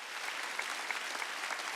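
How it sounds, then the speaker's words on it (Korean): A church congregation claps at a Sunday worship service, a steady dense patter of many hands that stays even and moderately loud for the whole stretch, with no voices. "박수 쳐."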